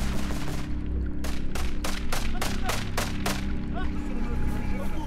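Battle gunfire and artillery from a French military operation in Mali: a rapid series of about eight sharp, loud reports in quick succession over a constant low rumble, with scattered smaller pops around them.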